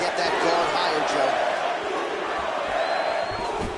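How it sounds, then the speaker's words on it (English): A crowd at a fight in the video game UFC 3 chants steadily as a dense, continuous roar throughout, with Brazilian fans leading the chant. "The Brazilians in the crowd start their chant"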